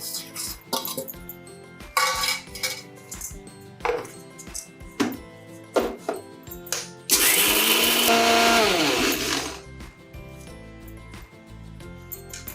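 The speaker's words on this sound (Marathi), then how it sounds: "हे मिक्सरमध्ये पावडर करून घेतो" A mixer grinder whirs loudly for a couple of seconds, grinding lightly roasted spices to powder, amid clattering kitchen knocks and clinks before and after.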